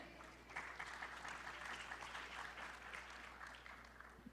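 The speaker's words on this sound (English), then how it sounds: "Please give a round of applause for each and every one of you here." Conference audience in a hotel golden ballroom on the second day of AFPC 2025 applauds, a soft, steady round of clapping rising after a moment and holding evenly, heard from some distance over low room hum.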